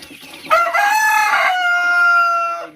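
A rooster crows once, loud and close, in a single sustained call, with other chickens and chicks kept on a Philippine backyard farm faintly clucking around it; no one speaks.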